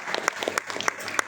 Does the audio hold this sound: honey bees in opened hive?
no